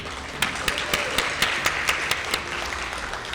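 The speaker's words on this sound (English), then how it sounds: "Let's give them another round of applause." An audience at a scholarship induction ceremony applauds steadily, a dense, even wash of many hands with a few sharper individual claps standing out, with no talking over it.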